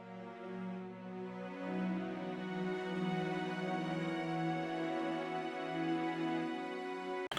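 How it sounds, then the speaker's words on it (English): A string ensemble holds sustained, layered chords, smooth and warm, with low notes swelling gently and no voices present. "We also have these strings here in this first verse."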